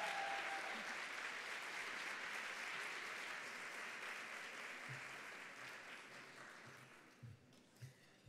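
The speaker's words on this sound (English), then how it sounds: "Can we give her another round of applause, please?" A luncheon audience gives a sustained round of dense, even applause that slowly tapers off, with a few low thumps and a faint voice near the end.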